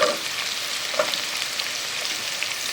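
Onion and garlic fry in a pan with a steady, close, broadband sizzle, a few faint clinks and stirring scrapes rising now and then above it, no voices.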